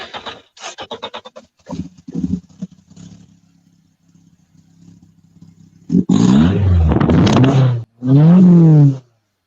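A small car engine revs up loudly after a quieter stretch of idle, rising in two strong bursts of acceleration close by.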